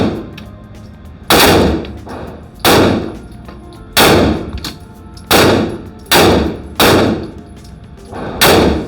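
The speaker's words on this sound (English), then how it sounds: "when you see a video of me at the gun range shooting guns" Gunfire at a gun range: about eight loud, sharp single shots spaced roughly a second apart, each ringing out briefly, with no talking.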